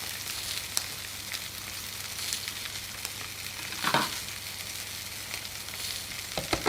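Sausages fry in a pan for rougail saucisse, a steady close sizzle and crackle with a few brief louder pops and stirring scrapes, no voices.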